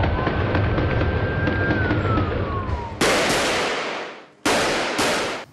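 Sharp, loud gunshot-like cracks in Jenin amid a continuous background roar and a falling tone, a few abrupt bursts near the end with gaps between.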